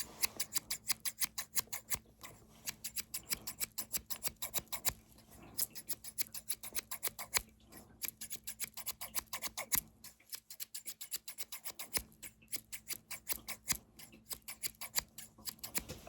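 Scissors snip steadily and close to the ear in a quiet face-changing ASMR roleplay, with crisp rhythmic cuts and only brief pauses. No one talks.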